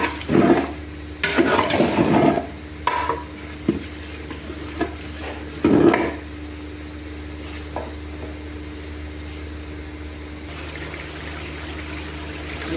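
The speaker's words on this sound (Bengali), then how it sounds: "ভালো করে কষায় নিতেছি" Beef is sautéed and stirred in a pan, with bursts of scraping and sizzling strokes in irregular clusters over a low steady hum, close and fairly loud, fading to a quieter simmer toward the end.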